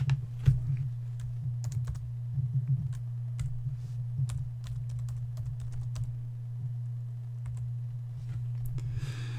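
Steady typing on a computer keyboard while filling in a software setup dialog, a continuous run of close, crisp key clicks over a low constant hum, with no talking.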